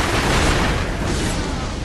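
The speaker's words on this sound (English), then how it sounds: "Firecrackers also work really well here on this fight." Firecrackers going off in the Sekiro boss fight against Isshin the Sword Saint, a dense, continuous crackling burst of small pops and bangs filling the whole moment at steady loudness.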